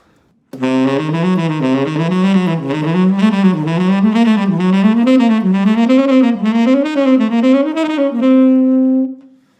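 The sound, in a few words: diminished scale shred exercise played going up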